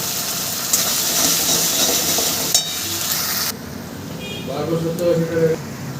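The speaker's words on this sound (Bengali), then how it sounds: "মশলাটা প্রায় ভাজা হয়ে এসেছে আর একটু ভেজে নেব" Spices and chillies frying in a little oil in a pan while a fish curry is cooked: broad steady sizzling hiss that drops away partway through, with a few stirring clatters and faint speech near the end.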